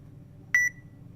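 A phone app beeps once as it scans the barcode on a sauce bottle, a single short, clear tone over a quiet low room hum.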